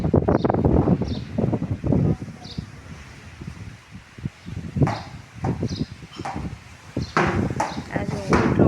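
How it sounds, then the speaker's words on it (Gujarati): Strong storm wind blows outdoors in Kutch, buffeting and roaring in gusts that swell and fade, with babool and neem trees tossing; a person talks over the wind. "તમને બતાવું કેટલો પવન ફૂંકાય છે બહાર."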